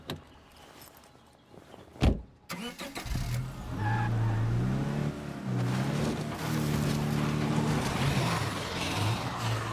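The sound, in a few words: car driving in video game State of Decay 2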